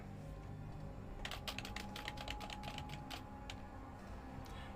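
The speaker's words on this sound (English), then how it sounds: "You can hear typing." Quiet typing on a computer keyboard, a quick run of soft clicking keystrokes in the middle of a faint room background, with no talking.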